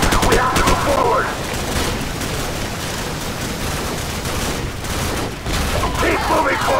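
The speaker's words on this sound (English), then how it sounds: "Get suppression fire on that building!" Video game gunfire in Call of Duty 4: Modern Warfare, a sustained close fusillade of rapid automatic shots and cracks during a squad firefight in a bog, with shouted voices mixed in.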